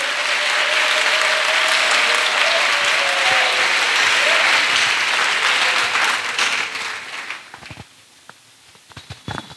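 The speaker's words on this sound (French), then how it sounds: "Let us clap for Jesus." A church congregation claps for Jesus, a dense, sustained wash of applause that holds steady for several seconds, then thins into scattered, fading claps near the end.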